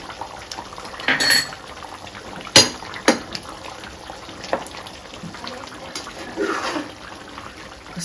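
A spoon clinks and scrapes inside a metal pot while stirring country chicken curry with garam masala, giving a few sharp knocks among softer scraping and faint liquid sounds, close by.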